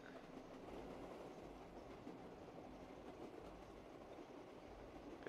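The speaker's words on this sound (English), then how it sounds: "Maybe I should just keep riding the train." Train ride in the zombies map Shadows of Evil from Call of Duty Black Ops 3: a steady, continuous rumble of rolling rail wagons with faint clickety-clack, moderately loud and unbroken, no talk.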